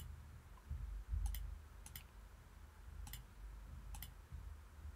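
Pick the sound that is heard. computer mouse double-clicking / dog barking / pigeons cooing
computer mouse double-clicking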